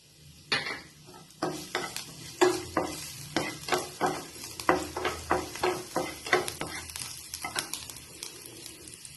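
Garlic sizzling in hot oil in a pan, with a steady frying hiss broken by a run of repeated stirring scrapes and clinks of a utensil against the pan, close and fairly loud.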